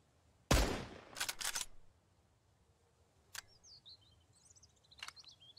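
Sniper rifle shots in the survival video game Mist Survival: one loud, sharp report followed by a couple of quick cracks, then two fainter isolated shots spread apart with quiet stretches and faint chirps between.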